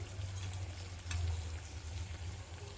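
Khata namkeen snacks frying in oil, a quiet continuous sizzle with a low bubbling rumble and small crackles, alone without any voices.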